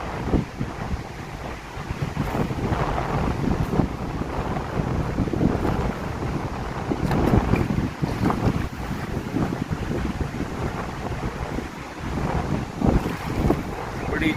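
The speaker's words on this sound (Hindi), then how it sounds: "कल बहती हुई गंगा।" Ganga river flowing in the morning, heard as a steady broadband rush of moving water and wind buffeting the microphone, continuous and fairly close with no pauses and no talk.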